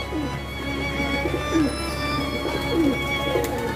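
Several pigeons coo in soft, rolling calls at an outdoor loft in Tonk, with repeated throaty phrases over a low background hum.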